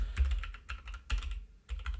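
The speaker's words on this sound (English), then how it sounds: "Excuse my clattery keyboard." Quick bursts of typing clatter on a noisy computer keyboard, in several close, uneven clusters with short pauses between them.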